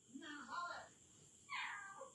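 A cat meowing indoors, two drawn-out plaintive meows separated by a short pause, close and fairly clear over quiet background.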